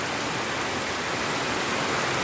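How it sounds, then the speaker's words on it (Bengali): Steady rain falls in Habiganj after an intense heatwave, with no wind stirring the trees; a dense, even hiss of downpour carries through the whole stretch without letup. "অবশেষে বৃষ্টি দেখা পেল"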